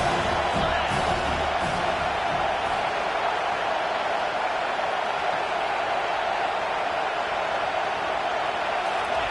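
Stadium crowd at an Alabama football game roars steadily behind the defense on a big third down, a dense, sustained wall of cheering with whoops throughout.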